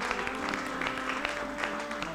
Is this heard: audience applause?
yes